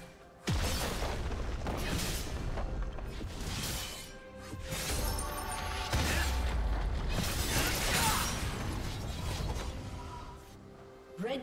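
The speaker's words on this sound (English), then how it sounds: "Blue team's turret has been destroyed." A turret is destroyed in League of Legends, heard as a loud crashing boom with shattering debris and creaking, mechanical rumbles that carry on for several seconds.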